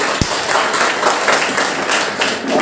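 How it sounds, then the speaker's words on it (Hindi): An audience at a Hindi Day school event claps after a poem recital, a steady patter of hands that rises and falls throughout, moderately loud in a reverberant hall. "एक बार जोरदार तालियां हो जाए।"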